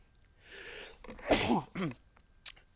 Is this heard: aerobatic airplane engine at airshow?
no